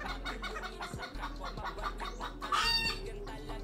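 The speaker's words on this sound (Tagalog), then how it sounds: "Pag nag-iingay yung bantam kong ganyan, umiitlog eh" A bantam hen clucks repeatedly in short, rhythmic bursts, fairly close, over a low steady background hum.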